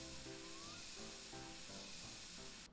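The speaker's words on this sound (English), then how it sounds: "And let me spray the front." Spray can hissing as paint goes onto a BMW E30 in the driving game My Summer Car, a steady broadband spray that holds nearly unbroken for close to three seconds, loud and close, with faint tonal game sounds underneath.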